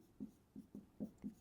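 A pen or marker writes a math solution by hand, leaving faint, close scratchy strokes in an uneven rhythm of about five short bursts, with no one talking.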